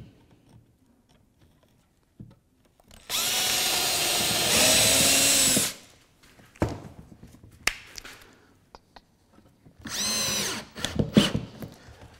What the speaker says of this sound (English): square the ends up, and countersink a couple screws in there